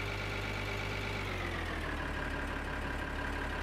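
A tractor engine idling in the farming game Farming Simulator 2013, a loud, steady, droning rumble whose pitch sinks slightly partway through, with no other sounds.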